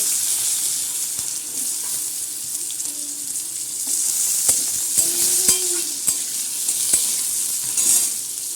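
Cut potatoes dropped into hot oil with helencha greens, a steady bright sizzle and crackle of frying, with scattered clicks and taps of a utensil against the pan and no speech.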